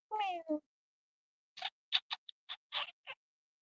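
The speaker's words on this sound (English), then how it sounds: "Look at that kitty." A cat meows up close: one long, drawn-out meow, then a brief pause and a quick run of shorter chirping cries, each clear against a quiet background.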